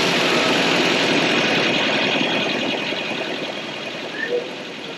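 Volvo B18A four-cylinder engine running at idle after a restart, a steady close rumbling drone with even vibration that eases slightly toward the end.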